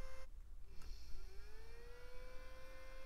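A small cooling fan, off balance from dust, whirs steadily, its pitch drifting slightly as it spins, with a faint uneven wobble under low background noise.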